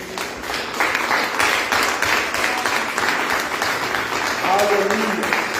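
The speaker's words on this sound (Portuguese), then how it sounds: "Dê um aplauso ao Senhor." A church congregation applauds in a sustained wash of clapping, with voices calling out over it and a brief sung or exclaimed phrase near the end.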